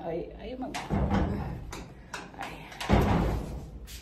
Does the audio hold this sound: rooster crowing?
no